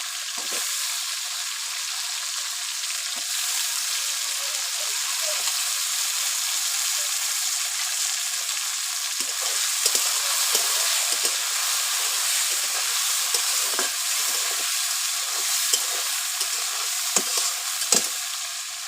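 Tomatoes fry and get stirred in a pan for a fish curry, with a steady broadband sizzle throughout and scraping stir clicks growing more frequent toward the end, close and moderately loud with no talk.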